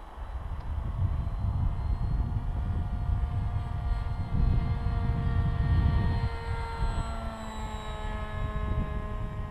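A cheap RC model airplane with CC3D stabilization flies with a steady, whining electric motor and propeller buzz whose pitch shifts with throttle. It is moderately close and continuous.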